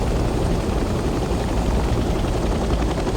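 A helicopter in the video game Hell Let Loose Vietnam drones with a loud, steady rotor and engine roar that fills the whole stretch without a break.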